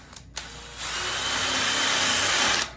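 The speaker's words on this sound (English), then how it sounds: "I'm just gonna take my drill" A power drill bores into a trailer, spinning up with a steady whine that holds for about two seconds before cutting off, preceded by a couple of brief clicks.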